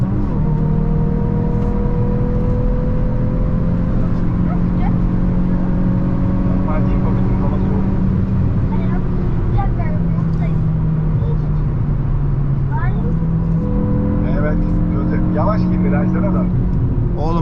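A car engine climbs in pitch as it accelerates, revving through the gears with a steady road roar heard from inside the vehicle.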